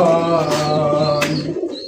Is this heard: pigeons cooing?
yes